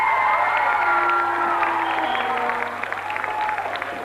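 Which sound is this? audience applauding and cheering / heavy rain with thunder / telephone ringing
audience applauding and cheering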